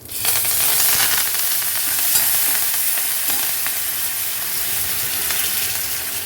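Curry leaves hit hot oil already browned with asafoetida and crackle into a loud, steady sizzle that hisses on without a break.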